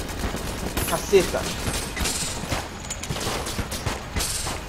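Rapid bursts of gunfire in Enter the Gungeon crackle in quick succession while a voice briefly exclaims over the shooting.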